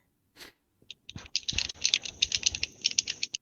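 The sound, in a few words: video game controller button mashing clicks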